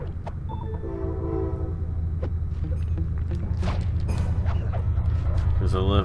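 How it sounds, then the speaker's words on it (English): A train passing along a nearby railway track, a steady low rumble throughout with a horn-like tone early on, heard faintly in the background behind game sounds. "And you might hear a train in the background."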